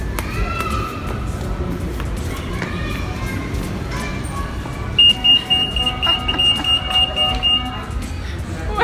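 A store's anti-theft security detector goes off as a shopper walks through, sounding a series of short high-pitched beeps over indoor chatter and voices in the background.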